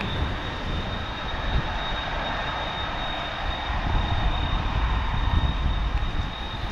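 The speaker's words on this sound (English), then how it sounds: "This plane gets very loud as well, this MD-11." MD-11 jet engines roaring at an airport, a loud, continuous broadband rumble with a steady high whine, swelling slightly toward the end, heard from a spotting position without speech.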